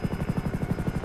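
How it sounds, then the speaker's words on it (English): Attack helicopter in the FivePD police game, its rotor thumping in a fast steady pulse throughout, loud and close with no talk over it. "I hear, attack helicopter. Attack chopper."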